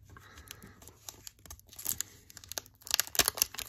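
Tape torn and peeled away from a stack of boxed collectible vinyl figures taped together, a run of crackly ripping and crinkling bursts that grow louder and sharper toward the end, close up with no talking.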